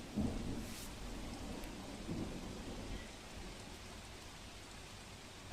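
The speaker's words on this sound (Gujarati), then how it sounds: "રાજકોટમાં આજ સવારથી જ ધોધમાર વરસાદ છે તે વરસી રહ્યો છે" Heavy monsoon rain pours down in Rajkot as a dense, steady hiss with low rumbling underneath, continuous throughout.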